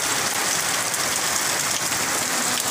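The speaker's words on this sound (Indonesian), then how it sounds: "inilah keadaan hujan yang ada di Desa Mentawak nih" Steady rain pours down in the village of Mentawak, a dense, even hiss of drops on surfaces, close and loud, with no voices.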